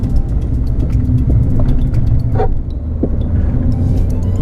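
A manual Renault Clio with an open differential takes a corner on a race track, its engine a loud, steady cabin drone with rumbling low tones and shifting whine, no voices over it.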